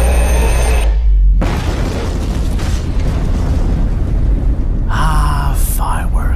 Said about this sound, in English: Ah, fireworks. Always a good way to start a festival.